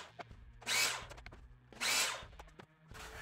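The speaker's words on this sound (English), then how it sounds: "at the miter saw for now, take picket number 5, cut 3 at 12 1/4." A miter saw cutting wooden fence pickets for planters, two loud whining bursts about a second long each with a short spin-down between them, and clicks and knocks around the cuts.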